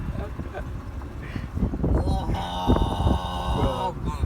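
Engine of a 2009 Mercedes C63 AMG with a 6.2-liter V8, rising from idle into a rev held over excited voices and rumble nearby.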